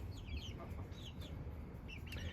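Chickens clucking softly around a roost as young birds try to fly up beside their mother hen, a steady low murmur of short chirps and clucks close by, with no talking.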